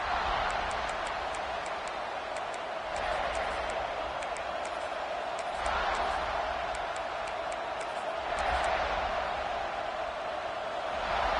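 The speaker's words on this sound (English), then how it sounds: "This crowd trying to make life miserable for this offense." A stadium crowd at a football game keeps up a steady, distant roar and murmur, while a commentator talks over it.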